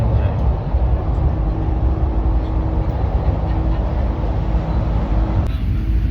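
Train standing at a railway station on a Thailand-to-Laos rail journey, a steady low rumble and hum with a faint sustained tone throughout, voices present in the background.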